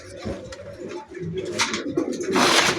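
Blue barless pigeons cooing in a loft, giving soft repeated throaty coos with wing flutters and bursts of scratchy noise, close and fairly loud.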